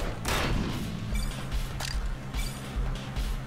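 Pistol shots in the dystopian roguelite FPS Bunker Punks, a few sharp, loud cracks spaced irregularly with brief mechanical clicks between them and no talking.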